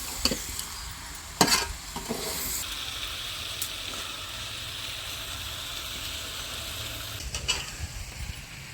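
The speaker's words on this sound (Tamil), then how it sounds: "சிக்கனு மஞ்சத்தூள் எல்லாம் நல்லா வதங்கி வரட்டும்." Chicken coated in turmeric powder fries in a pan, a constant close sizzle broken by a few sharp spatula scrapes and stirring clatters early and late, no voices.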